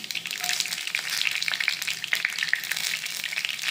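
Dried red chillies frying in hot oil with urad dal, dal and mustard seeds, a bright crackling sizzle with scattered pops, close and continuous, with no voices.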